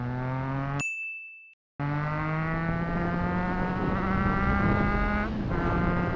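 A Triumph motorcycle engine with a Zard exhaust drones with a rising, harmonic exhaust note, interrupted by a sharp chime and a brief cut, then revs on steadily.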